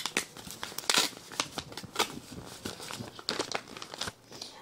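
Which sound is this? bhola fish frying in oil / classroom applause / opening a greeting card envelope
opening a greeting card envelope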